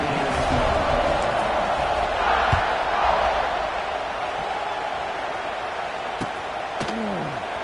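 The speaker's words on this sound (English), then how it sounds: "this crowd is buzzing after that last score" Football stadium crowd buzzing after a touchdown, a dense, steady roar of many voices that fills the space and eases slightly partway through, with a couple of sharp thuds and a brief whistle-like tone near the end.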